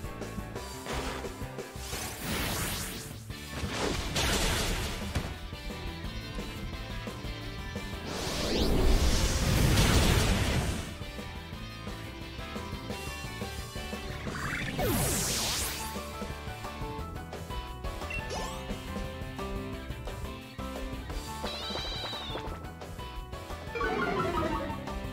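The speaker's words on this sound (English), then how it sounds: "I'm just gonna use Fire Blast" Fire Blast, a fire-type attack in Pokemon Sword, in a battle at Wyndon Tower: a loud crashing burst with whooshes lands midway over continuous game music, and more sweeping effects follow later.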